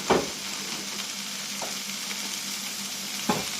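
Frozen bacon lardons sizzle in a pan with a steady crackling hiss, broken by a couple of soft scraping stirs, close by and moderately quiet.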